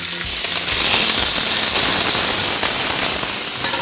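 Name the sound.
chicken frying in cast iron pan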